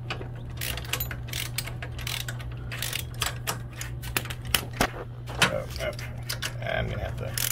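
A hand ratchet works loose the foot peg bolts on a 2004 Harley-Davidson Dyna FXDI in a garage, giving close, repeated clicking strokes over a steady low hum. Brief clanks of tools are heard along with it.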